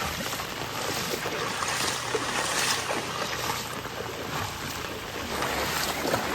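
Floodwater runs through a Sri Lankan village after heavy rain, a steady broad rushing wash that holds an even level throughout, close by with no voices over it.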